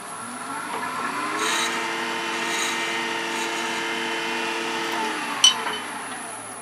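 A wood lathe turns a miniature bird house while a big skew chisel cuts it, a steady whirring hum with a faint tonal drone, a soft scraping cut and one sharp tick near the end.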